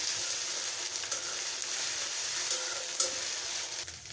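Onion paste fries in hot oil while being stirred, a loud, steady sizzle with occasional scraping strokes of the spoon across the pan.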